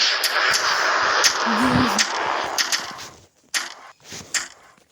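Gunfire in the Roblox video game: repeated short sharp shot cracks over a busy dense game soundscape, with a brief tonal blip near the middle and scattered isolated shots toward the end.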